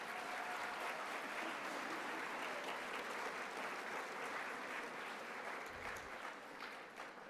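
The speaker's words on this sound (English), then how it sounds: "Give yourselves a big round of applause." A big, continuous round of applause from the audience at a 2019 intermediate school graduation as students are cheered, dense and even from start to finish, fading a little in the last second.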